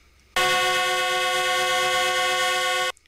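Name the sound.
passenger train on test run from Lagos to Abeokuta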